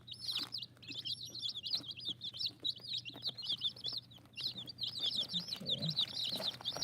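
Chickens kept in a snowed-in coop chirp and peep continuously in rapid high trills, with soft clucks underneath, moderately close and steady throughout.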